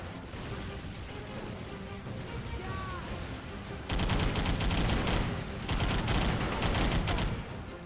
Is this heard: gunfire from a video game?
yes